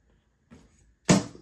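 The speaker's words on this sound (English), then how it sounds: "what I don't really care for is how loud that is when it closes" Prusa Core One 3D printer's plastic door shutting: a soft first contact followed by one louder, sharp clack as the catch engages, close by and without voices.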